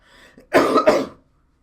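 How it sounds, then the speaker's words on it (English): A man lets out a single cough, a short double-burst throat sound, close and clear, with a faint voice murmuring just before it. "let out a single cough when he realized that he was being called"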